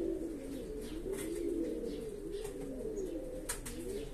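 A male pigeon of a thief-pigeon sporting breed coos steadily, a low throaty rolling call repeated again and again against faint outdoor background noise and some light chirping. The bird sounds close and there is no talking.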